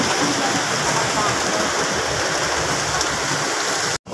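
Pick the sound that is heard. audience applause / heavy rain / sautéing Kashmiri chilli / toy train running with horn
heavy rain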